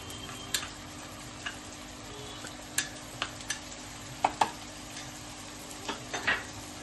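Cumin, coriander powder and chili powder being sautéed into a spice masala for fried egg curry, heard as a soft steady sizzle with scattered sharp taps and scrapes of a spoon against the pan.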